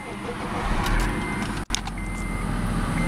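A 2006 Acura TSX engine runs with a steady, close rumble, broken by a brief dropout midway, and a thin electronic chime rises over it near the end.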